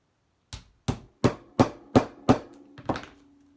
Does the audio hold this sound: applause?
no